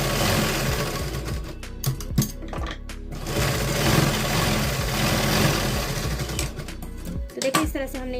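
A sewing machine runs near-continuously, stitching a close line of topstitching on a size 42 katori blouse, its steady motor hum broken by a few brief pauses and speed changes.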